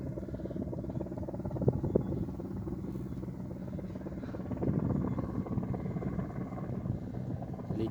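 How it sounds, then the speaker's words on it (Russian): A helicopter, likely a medical helicopter over Yakutsk, drones steadily overhead with a low, continuous rotor rumble that swells slightly midway, heard at a moderate distance. "Вертолет летит."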